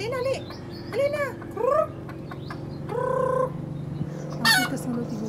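A caught chicken squawks and calls in several loud, harsh bursts close by, with pauses between outcries and a steady background hum.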